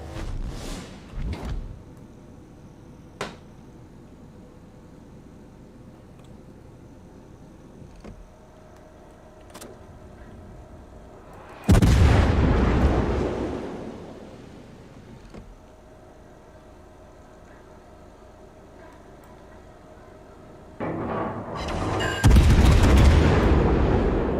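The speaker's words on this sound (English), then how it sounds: "All stations, concentrate fire on the target." Warship main guns firing in World of Warships, two heavy booming salvos several seconds apart, loud and close, each with a long rolling decay over quiet ambient hum.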